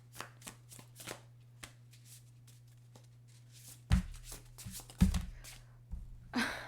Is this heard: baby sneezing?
no